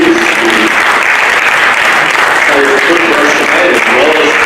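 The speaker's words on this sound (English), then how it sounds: "Let's give another round of applause to all of the movie students." Loud, steady audience applause at a high school cooking show event, dense continuous clapping with some voices talking over it.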